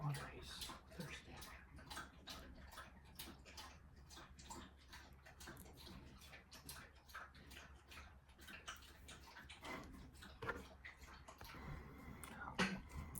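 A dog laps water in a quiet room, a soft steady train of close, faint slurps repeating for many seconds with a brief louder knock near the end.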